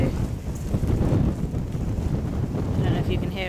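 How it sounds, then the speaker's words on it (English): On a windy day outdoors near a harnessed Gelderlander mare, wind buffets the microphone with a steady, low roar. There is a faint fluttering near the end, and no speech is heard. "And obviously it's quite windy today."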